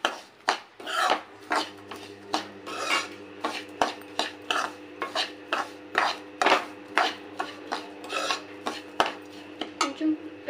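Metal ladle scraping and stirring upma semolina (rava) as it roasts in a pan, a steady series of rhythmic rasping strokes with clinks against the pan, close and clear, with no talking.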